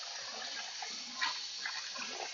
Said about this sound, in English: we're going to take the bottom container, which contains liquid, and dump that out.